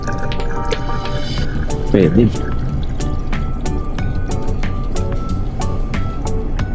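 An airport water fountain fills a tumbler, a steady trickle and rising gurgle of water running into the cup, close and continuous, while people talk over it.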